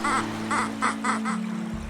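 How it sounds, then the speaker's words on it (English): Cartoon ducks quack in an animated kids' story about a beaver in a rainstorm, five quick nasal calls in a bouncy rhythm over a soft musical bed, near and clear. "Suddenly, Benny saw a family of ducks struggling in the rising water."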